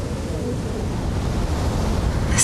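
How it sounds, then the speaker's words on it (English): Sea waves surge onto the shore in a continuous low roar with wind noise. The sound is steady and fairly loud, and no one speaks. "It's the sea."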